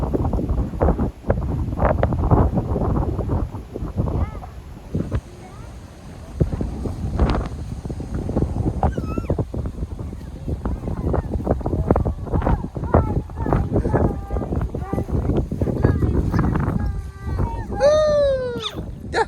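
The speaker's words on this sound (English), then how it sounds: "That wind feels nice, huh?" Gusty outdoor wind buffets the microphone in bursts and rushes at a campsite near water, heard under frequent talking, with a few birdlike chirps near the end.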